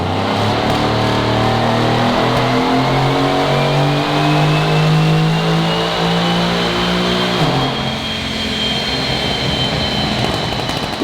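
A turbocharged car engine on a dyno, tuned for VP import fuel, holds a loud sustained rev with a rising pitch, then drops off and settles near the end; no one speaks.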